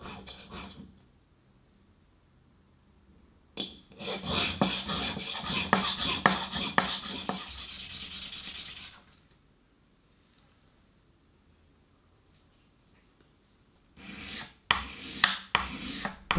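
Rasping strokes of 600 grit wet and dry paper sanding a silver-brazed brass guitar nut, a dense burst of rapid back-and-forth scrubbing after a faint start, then a quiet pause before a few more short sanding strokes close by.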